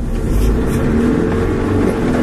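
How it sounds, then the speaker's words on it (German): Car driven by a learner driver accelerating hard and then braking, engine rumbling loud and close with a low steady drone. "Fahr mal ganz schnell und dann bremst mal ab."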